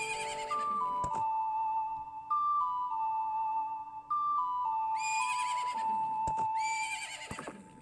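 Epona, the horse in the video game The Legend of Zelda: Majora's Mask 3D, gives two loud, shrill whinnies over sustained in-game melodic tones and chimes.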